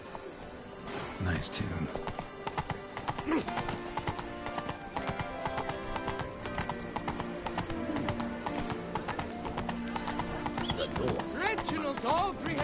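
Horse galloping in the video game The Witcher 3: rapid clip-clop hoofbeats with occasional whinnies over a continuous game soundscape, with brief talk.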